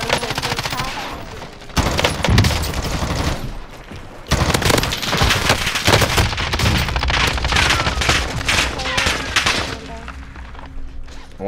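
Rapid automatic gunfire from a RAM-7 assault rifle in Call of Duty Warzone, loud bursts nearly continuous across the clip with a brief gap, dense overlapping shots and faint player chatter underneath.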